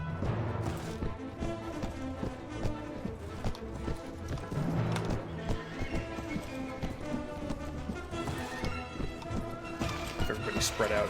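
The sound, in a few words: horses galloping and neighing in Mount & Blade Warband video game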